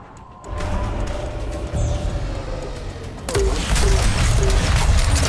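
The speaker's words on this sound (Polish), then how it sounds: "Kolejna eksplozja." Explosions in the video game Reverse Collapse: Code Name Bakery, a dense, loud barrage of booms and crashes that swells sharply after a quieter start, with a thicker second burst toward the end over continuous game noise.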